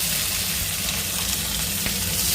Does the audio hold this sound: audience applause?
no